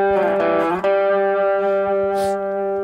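A sustained electric guitar note rings out with a buzzy, harmonically rich distorted tone, after a brief strummed attack, holding steadily and loud.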